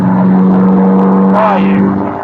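A tuned Skoda Fabia engine on a high power map revs loudly and close, holding a steady drone before a quick shift briefly changes its pitch and then eases off.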